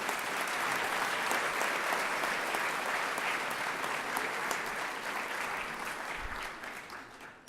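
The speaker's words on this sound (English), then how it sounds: "give me a round of applause for all of my friends" A full room at an awards gala breaks into a long round of applause, thick and even for several seconds before tapering off toward the end.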